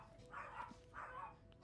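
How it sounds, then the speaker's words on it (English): A dog barks twice in the background, muffled and fairly faint, two evenly spaced woofs with no talk over them. "Sorry if you hear my dog."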